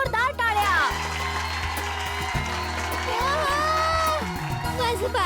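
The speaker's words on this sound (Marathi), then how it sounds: "मित्रांनो, यांच्यासाठी सुद्धा जोरदार टाळ्या." Audience applause and cheering on a Marathi comedy show, a steady wash of clapping and crowd noise under continuous speech and background music.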